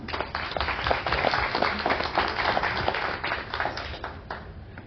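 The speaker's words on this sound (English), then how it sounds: "let's give Carmen a round of applause" An audience gives a round of applause at a presentation event, a dense, moderately loud burst of clapping that rises and then tapers off over about five seconds.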